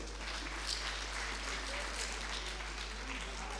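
An audience at an awards-style event applauds a sponsor, continuous mid-distance clapping with a low hum underneath and a voice faintly mixed in.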